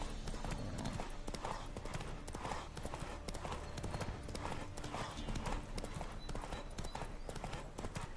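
Roach, a horse in The Witcher 3, gallops with a steady, rapid clip-clop of hooves that runs unbroken throughout, loud and close over a dense bed of ambient game sound.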